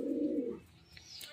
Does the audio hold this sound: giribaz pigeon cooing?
yes